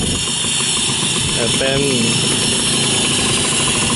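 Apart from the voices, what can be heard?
Yanmar pickup truck engine running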